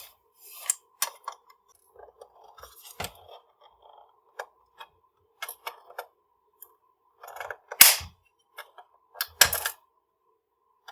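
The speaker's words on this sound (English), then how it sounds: "You need to trim off these pieces here in order for this new shock tower to fit in." Plastic pieces being trimmed off an RC car chassis to fit a new shock tower, MN99S with 59mm shock upgrade: scattered sharp snips and clicks with quiet gaps, close and no talking.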